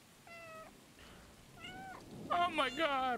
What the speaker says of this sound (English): Oh my god, we're meowing.